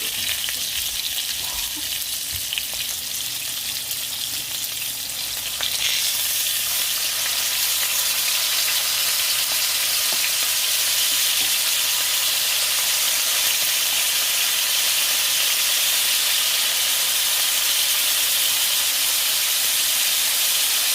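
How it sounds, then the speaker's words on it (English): Boneless pork chops fry in a hot pan with a steady, loud sizzle and hiss that runs unbroken throughout, swelling a little stronger partway through, with no voices. "Cook each side of the pork for 4 minutes."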